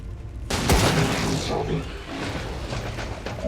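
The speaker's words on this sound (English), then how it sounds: "Pale Rider Hancock first shoots his pistol normally" Pistol shot in XCOM 2: War of the Chosen, a sharp loud bang followed by a booming reverberant tail and rumbling game ambience.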